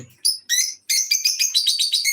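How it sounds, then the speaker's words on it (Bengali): Pet talking parrots in Oman give a burst of sharp, high chirps: a few separate calls, then a quick run of about eight, close and loud. "পাখির শব্দে কথা বোঝা যাচ্ছে"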